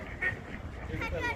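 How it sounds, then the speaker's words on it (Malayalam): A couple of nasal duck quacks stand out over continuous outdoor background noise and muffled murmuring. "അവിടെ താഴെ നടന്ന താറാവുകളൊക്കെ ഉണ്ട്"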